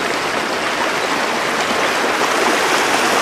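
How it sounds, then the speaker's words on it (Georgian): A waterfall roars with a steady, dense, broadband rush of falling water, loud and close, unbroken throughout with no voices over it. "როგორ მომეწონა ეს ჩანჩქერი რა კარგია"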